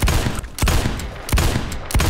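Repeated loud gunshots from an 1858 carbine in a first-person shooter video game, four sharp close blasts at a steady rhythm with dense noisy tails between shots.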